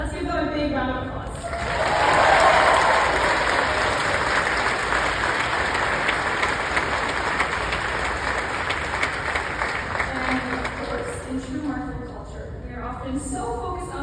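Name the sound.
audience applause at graduation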